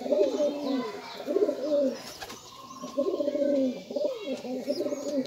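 Pigeons feeding their chicks coo in low, rolling phrases, repeated several times at close range, with faint chirps in the background.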